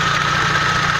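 Idling Euro 3 engine with a broken timing sprocket, knocking in a fast regular rhythm over a loud, steady close drone, with no talking.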